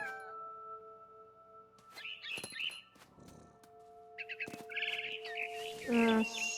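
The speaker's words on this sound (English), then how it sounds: "Then I heard chirping outside my window." In the video game What Remains of Edith Finch, scattered bird chirps and tweets come in short bursts between clicks and thumps, set against sustained background tones, close and clear.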